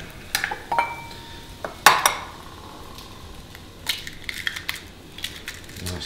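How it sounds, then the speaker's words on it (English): Eggs cracked into a pot over browned beef: sharp shell cracks and clinks against the rim, a few separate knocks spread out between quiet stretches, with faint sizzling underneath. "what we want to do is crack a couple of eggs. into that."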